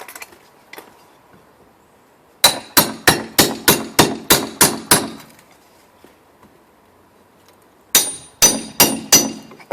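Hammer blows while removing window trim, a burst of about eight sharp, loud, evenly spaced strikes, a pause, then four more close, ringing hits.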